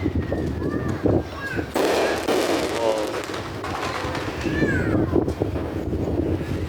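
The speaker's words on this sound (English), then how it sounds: "Whistling and boom. It's like they got fireworks that whistle" Fourth of July fireworks whistle upward in rising tones and burst in deep booms, loud and repeated against a rumbling backdrop with some wind buffeting, while people react nearby.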